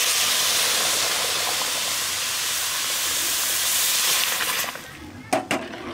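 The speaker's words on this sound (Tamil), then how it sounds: "இப்போ தண்ணி எடுத்து ஊற்றிடலாங்க ரவா கூட." Boiling water poured onto rice rava for upma gives a loud, steady rush of hissing steam that cuts off near the end, followed by a few light clinks.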